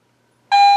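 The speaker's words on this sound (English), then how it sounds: "We'll try the 925 sterling silver. That seems to be picking it up" A metal detector responds to a 925 sterling silver target with a sudden steady electronic tone that starts abruptly after silence and holds loud and clear to the end.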